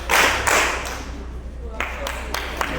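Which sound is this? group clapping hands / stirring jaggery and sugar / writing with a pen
group clapping hands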